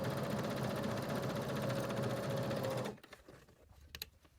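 A sewing machine runs steadily while chain piecing scrap fabric for a mini composition notebook cover, a continuous close whir for about three seconds before stopping abruptly, followed by faint handling clicks.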